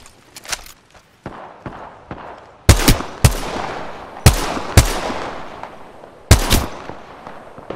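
Gunfire in the battle royale game Apex Legends, several separate loud bursts of shots with sharp attacks, spaced a second or more apart, mixed with quieter clicks and game movement between them.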